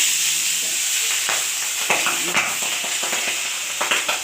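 Marinated pabda fish fries in smoking-hot oil in a wok, a continuous loud sizzle with sharp spitting pops scattered throughout.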